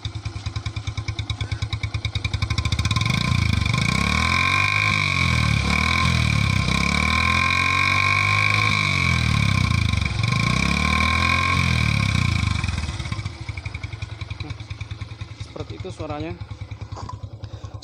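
Bajaj Yamaha Byson motorcycle with a cut-down exhaust, revved hard and loud close up in long sustained pulls, settling back to a throbbing idle near the end.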